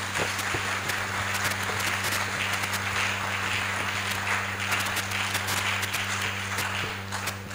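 Sustained applause from a church congregation fills the space, a dense wash of clapping that continues steadily throughout with faint voices mixed in.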